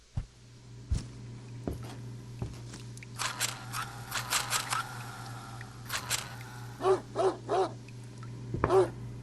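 A dog in the game Greyhill Incident barks several times in short bursts, mid-distance, over a low steady hum with scattered clicks and knocks; the barks come in small groups near the end.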